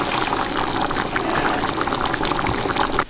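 Portuguese white wine from the Lisbon area is poured into a glass, a continuous, close liquid splash lasting about three seconds before it stops abruptly.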